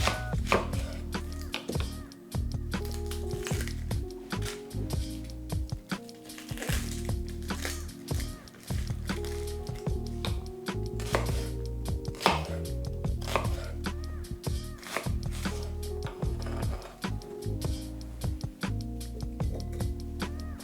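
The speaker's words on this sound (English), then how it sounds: "We're gonna do 1 whole white onion. Doesn't have to be chopped perfectly" A whole peeled white onion is chopped on a cutting board with a knife, giving steady, rapid, close knife taps that continue without pause.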